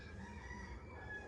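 A rooster crows loudly and continuously nearby, its drawn-out call filling the whole moment with no talking.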